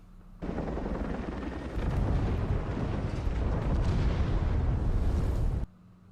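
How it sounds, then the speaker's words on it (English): Helicopter in the Rainbow Six video game flying away, a loud sustained rotor roar with heavy rumbling bursts that builds partway through, then cuts off abruptly. "He's flying away in a helicopter without his buddy."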